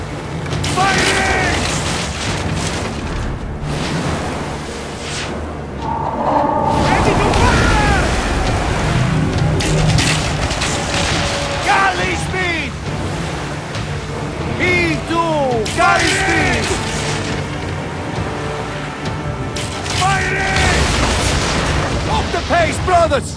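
Ship cannons booming during a naval battle in Assassin's Creed Origins, heavy scattered blasts mixed with crashing waves and wind, with voices shouting over the fighting.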